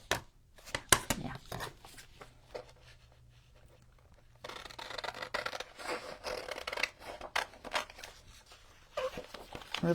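Scissors snipping a rub-on transfer sheet for a Halloween craft project: close, crisp cuts in irregular bursts, with a quieter pause midway before more rustling snips resume.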